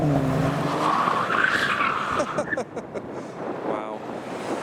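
A BMW slides sideways while cars leave a car show, its tires giving a brief rising squeal in the background beneath steady wind buffeting and engine noise, with people talking nearby.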